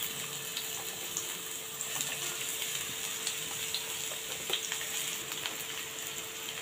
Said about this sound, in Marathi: आता त्याच पॅनमध्ये आपल्याला थोडंसं तेल घ्यायचं आहे आणि इथे 2 मोठे कांदे मी उभे स्लाइसमध्ये चिरून ठेवलेले आहेत ते घालत आहे